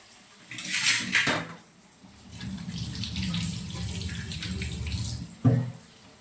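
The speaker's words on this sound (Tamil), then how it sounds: "அடுத்து மாங்காய் கழுவிக்கலாம்." Tap water runs into a kitchen sink while raw mango is washed by hand, a steady splashing stream with brief clinks at the start and a knock near the end.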